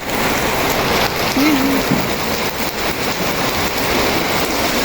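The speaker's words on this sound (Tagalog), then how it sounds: "Basta naman ang ulan, no?" Steady rain pours down continuously, a dense hiss of drops striking surfaces close by, with no break throughout.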